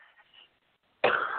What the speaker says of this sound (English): Excuse me, I got a little bit of a cough.